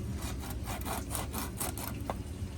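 Close, rough, rhythmic rasping from a knife cutting through varej fish and its skin, a rapid series of scraping strokes at moderate loudness with no talking.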